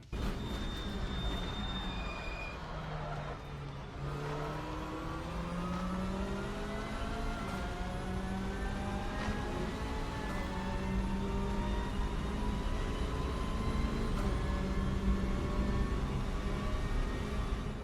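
Elantra TCR race car lapping Pascani Motorpark in Assetto Corsa, its engine droning steadily and rising and falling through gear changes and revs, continuous and fairly loud with no talk.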